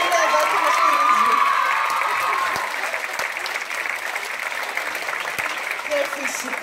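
Loud applause and cheers rise from an audience at a theatre finale, with a whistle early on, then settle into sustained clapping.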